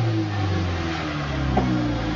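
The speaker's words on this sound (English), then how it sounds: "but that exhaust sounds alright." A car engine revs briefly through its exhaust, a close, steady mid-pitched drone that rises slightly near the end, with no talking.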